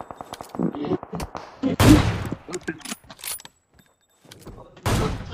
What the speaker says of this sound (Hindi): भाई सामने से फायरिंग शुरू हो गई है।